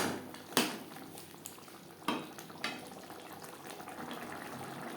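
Kasuri methi and garam masala powder stirred into simmering chana masala, with several sharp clinks of a spoon on the pot over a quiet bubbling background and no voices.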